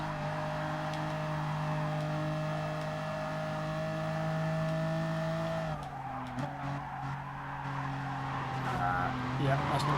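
A car slides through a corner in the Gran Turismo Sport video game, its engine drone holding steady before shifting, with tire skid and squeal over a continuous racing soundscape and a speaking voice.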